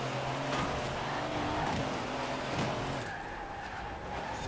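A heavy 4.5-tonne vehicle in Forza Horizon 4 revving hard with engine drone and a loud, sustained tire skid, steady and close throughout.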